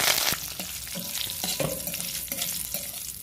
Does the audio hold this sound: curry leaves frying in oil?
yes